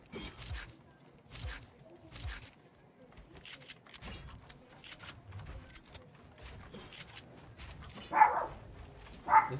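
A dog barks indoors in a few spaced, fairly faint bursts, with a couple of louder, closer barks near the end.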